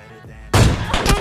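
Gunfire from an MK14 rifle in PUBG Mobile Lite, a short burst of close, loud shots that starts abruptly after a quiet moment and is followed by a second cluster of sharp reports.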